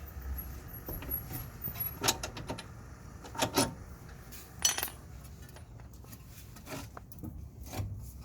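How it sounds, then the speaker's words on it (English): Metal clanks and rattles from bolts being worked loose and pulled from a Toyota Yaris front strut during a coil spring change, scattered knocks and light scrapes at moderate level with background noise. "So now we're gonna pull the bolts out."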